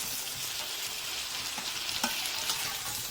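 Beef stir fry with vegetables, dressed with sugar, soy sauce and black pepper, sizzles steadily in a pan while being stirred, with a few soft scrapes of the spatula and no talking.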